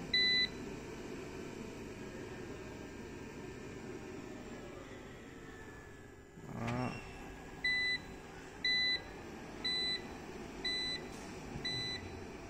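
A solar power unit switches on and lets out a string of short, high electronic beeps at a steady pace over a faint background hiss, after a brief rising whine.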